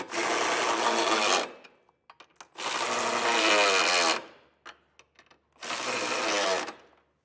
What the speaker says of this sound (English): Now we're gonna take a 19mm socket, and we're gonna go ahead and snug these down